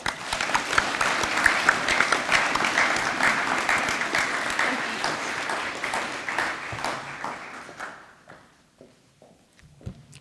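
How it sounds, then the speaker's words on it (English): Sustained audience applause for honors graduates at a university senior breakfast, a dense wash of many hands clapping steadily for about eight seconds before thinning out and fading to a few scattered claps. "give them all a round of applause"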